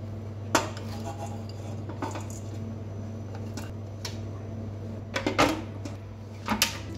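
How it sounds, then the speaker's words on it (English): Seeds for a healthy nutritious bread tumble into a bowl of dough, giving several sharp clinks and rattles at close range that come in short bursts against a steady low hum. "So now I add the seeds."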